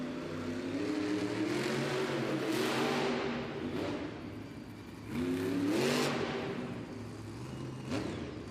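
A monster truck engine revs at a Monster Jam arena show in Florence, South Carolina, rising and falling in pitch through several throttle surges under a constant loud drone.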